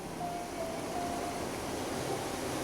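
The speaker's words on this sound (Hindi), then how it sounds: "पानी बह रहा है।" Green water flowing steadily outdoors in Houting, Taiwan, a soft, even rushing wash with a faint breezy hiss, no talking.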